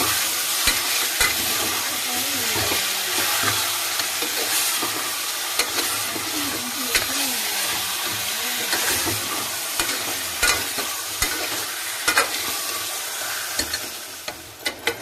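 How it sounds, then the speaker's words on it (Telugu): Mutton pieces frying and being stirred in oil in a pan, a steady sizzle with repeated scraping and clattering of the spoon throughout, close and continuous. "మటన్ వేసి ఇది బాగా ఫ్రై చేసుకుందాం"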